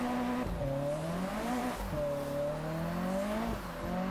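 A car engine revs and shifts with rising and falling pitch while tires slip and squeal in a drifting maneuver on a wet road in Japanese Drift Master, loud and close, with no talk.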